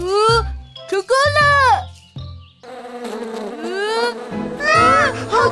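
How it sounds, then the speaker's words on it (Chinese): A cartoon bee swarm buzzes in rising and falling whines, loud and close, with children's cartoon voices talking over and between the buzzing. "好多蜜蜂。"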